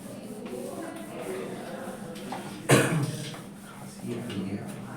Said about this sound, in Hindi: खांसी आ रही है यार।